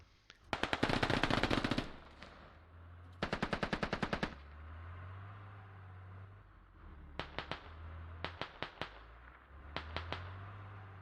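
Machine gun fire in the video game Squad, loud rapid bursts of automatic shots, two long volleys followed by several shorter clusters, with low engine rumble between them.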